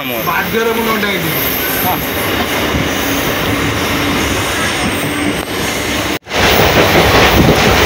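A moving passenger train on a trip to Puri in Odisha, India: a loud, steady rumble and rattle of wheels and carriages with squealing tones, a brief sudden dropout near the end, and voices talking over it.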